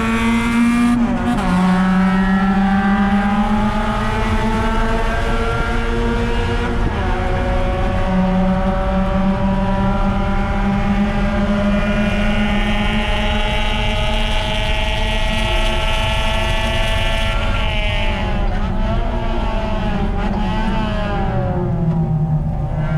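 A race car engine heard onboard at the start of a race, loud and continuous, revving up and shifting through gears with rising and falling pitch under strong wind rush.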